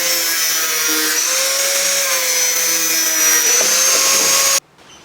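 Power tool cutting through a 4-inch PVC pipe, a steady, loud, high-pitched whine held continuously for several seconds before stopping abruptly.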